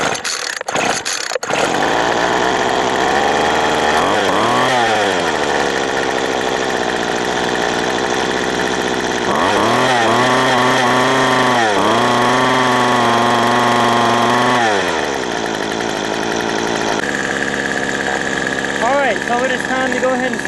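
A Craftsman weed wacker's two-stroke engine runs after a carburetor replacement, a loud buzzing drone that rises and falls in pitch as the throttle revs up and settles back to idle, close by, with brief handling noises at the start.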